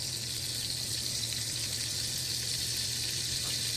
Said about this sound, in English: Hear the sizzle? Love that sizzle.